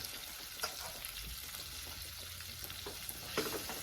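Quail sizzles and fries in a pan in a cabin kitchen, a steady close crackle of hot oil with occasional pops and no voices.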